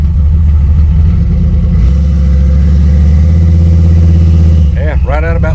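A Chevy C20 truck engine is held loaded in first gear against the brake, a loud steady low drone that shifts pitch midway, then choppy roughness at the end as it eases off.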